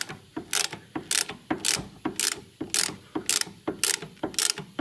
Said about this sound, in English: Got my jaw puller set back up. And we're just gonna tighten this sucker down